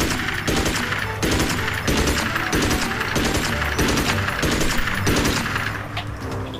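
Machine gun firing in the video game Magicka, rapid, loud, continuous bursts of rattling shots in a rhythmic stream that tapers slightly at the end.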